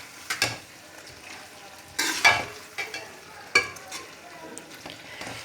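Aloo moongray batter mixed by hand in a bowl with ground cumin, coriander and fresh coriander, giving several distinct stirring scrapes and thumps with quieter churning between, close and moderately loud, no talking.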